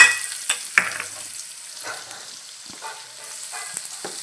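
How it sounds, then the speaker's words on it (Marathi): Chopped onion frying in hot oil with mustard seeds, cumin and curry leaves, for kat vada: a steady, bright sizzle with a few sharp spatula scrapes and pops, close up and without speech. "बघा मी तेलामध्ये कांदा परतणार आहे"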